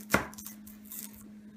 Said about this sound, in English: After washing your 3 ribs of celery, you can begin to cut them as I am now.